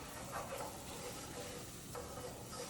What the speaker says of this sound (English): we're going to brown this rice in this butter